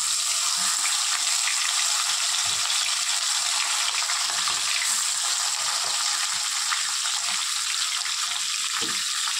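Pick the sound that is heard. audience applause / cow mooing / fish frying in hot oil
fish frying in hot oil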